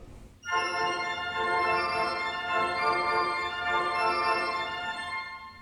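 A sustained pipe organ chord on open diapason, principal and 2-foot piccolo stops enters after a brief silence, bright and twinkly with many high harmonics, held steadily with small shifts, and no deep bass.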